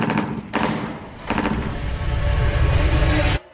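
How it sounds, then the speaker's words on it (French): Gunshots sounding as several heavy booming blasts, the first few separated by short gaps, then a longer rumbling stretch that stops abruptly. "Vous avez entendu ces coups de feu?"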